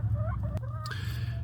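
Chickens in a backyard coop give soft, quick clucks over a low steady hum, close and fairly quiet.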